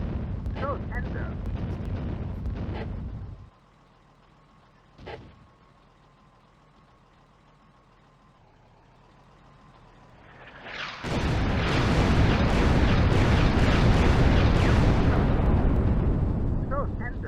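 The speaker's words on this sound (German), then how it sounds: "The German artillery barrage damages the church, but not the BT-7." German artillery barrage striking a church in the Eastern Front wargame Firefight: a deep burst, then a lull with one sharp blast, and finally a long, loud, dense roar of explosions rumbling on.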